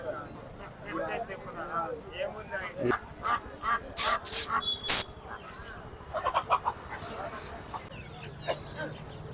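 Chickens cluck and squawk at close range among a busy crowd at a Ranipet livestock and poultry market, with a few sharp, loud honking calls standing out over the chatter.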